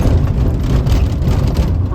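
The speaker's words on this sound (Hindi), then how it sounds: "जा रही है आगे आगे गाड़ी।" Road vehicle driving along a highway near Neemuch by the Madhya Pradesh border, heard as a continuous close, low rumble of engine and tyres with no clear break.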